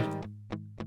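Three bright, twangy chords from a Fender Mustang electric guitar, recorded direct and unprocessed, played clean and close with short gaps between them, the first ringing longest.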